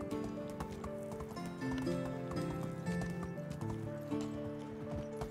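Horse hooves clip-clop in a steady rhythm as a rider crosses the land in the medieval survival game Medieval Dynasty, layered over game music.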